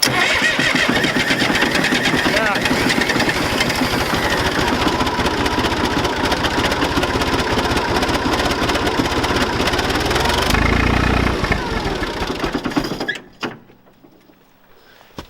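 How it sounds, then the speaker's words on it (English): A John Deere dozer with a rebuilt starter cranks, catches and runs with a loud, rough diesel clatter that holds steady for about eleven seconds, then tapers and is shut off, leaving near silence. "I'm going to turn the key and press the starter button, and it should turn over."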